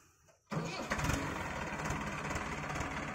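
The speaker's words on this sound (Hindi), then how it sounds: "तो भाइयों, अब आपको चला के दिखाते हैं ट्रैक्टर।" A Mahindra Arjun 605 tractor fitted with a 9-foot rotavator starts outdoors, going from quiet to a sudden loud diesel roar. The rough, knocking engine then settles into steady idling close by.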